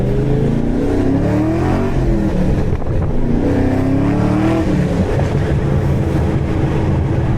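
A cammed fifth-generation Camaro Z28 V8 engine revs up under light acceleration, a loud steady roar rising and falling in pitch with no voices.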